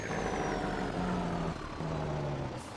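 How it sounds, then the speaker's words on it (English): A truck engine in Farming Simulator 22 drones loud and steady, its low hum holding close with a slight drop in pitch partway through and no talking over it. "Although these trucks have the Jake brake that sounds whenever you let off the gas"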